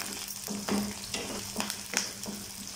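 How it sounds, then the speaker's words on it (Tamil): Shallots, garlic and curry leaves sauté in a pan for brinjal kara kuzhambu, a steady close sizzle broken by several spatula stirs and scrapes at a slow, uneven rhythm, with no voices. "இது கூடவே ஒரு 6 இலுப்பல் பூண்டு, அப்புறம் கொஞ்சம் கருவேப்பிலை, இதையெல்லாம் சேர்த்து நல்லா வதக்கிக்கோங்க."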